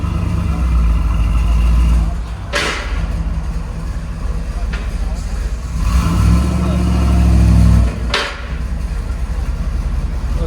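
A 1986 Pontiac Trans Am with a 5.7L V8, headers and a Flowmaster 80 Series exhaust rumbles and revs up nearby, its deep loud exhaust swelling and dropping across the stretch.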